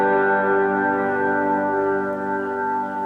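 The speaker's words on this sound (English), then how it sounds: "Here's how the reverb sounds" A Gretsch electric guitar chord rings out with heavy reverb, sustained tones hanging and slowly decaying in a wash of echo, played alone without voices.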